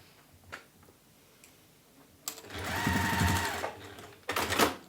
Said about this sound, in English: Sew across those edges.